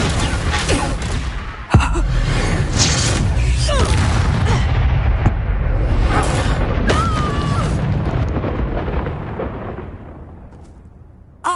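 A Confringo spell explosion in Hogwarts Legacy, a sharp loud blast followed by a long, roaring rumble of fire and debris that slowly fades.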